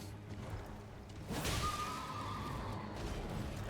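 A horse in the video game Elden Ring lets out a single clear whinny midway through, rising over a low ambient game backdrop at moderate loudness.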